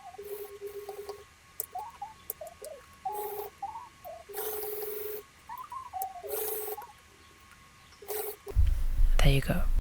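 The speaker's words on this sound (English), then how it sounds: "I fold twice, and then I sew close to the edge all around." A sewing machine stitches a folded hem in short bursts of rapid mechanical whirring separated by pauses, each run lasting about a second, with someone talking between and over the stitching.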